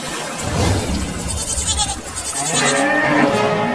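A goat bleats in flood water on a village farm, its cries repeating over a continuous rushing, splashing wash of water that stays loud throughout.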